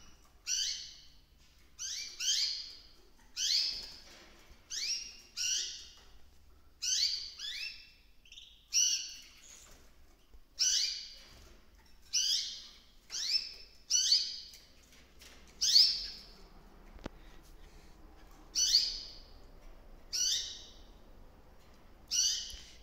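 A small bird in an aviary calls over and over, with about fifteen loud, close chirping bursts spaced roughly a second or two apart against a quiet background.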